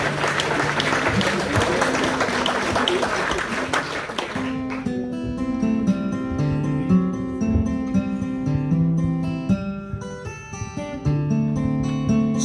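Applause for a musician at a celebration evening, a dense crowd clapping for a few seconds before sustained instrumental music with held tones takes over.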